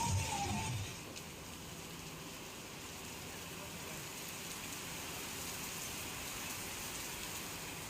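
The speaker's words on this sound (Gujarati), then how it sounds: "ભારે પવન સાથે ધોધમાર વરસાદના સમાચાર છે" Heavy rain pouring down with strong wind, a dense, steady wash of noise that stays constant after a brief louder burst at the start.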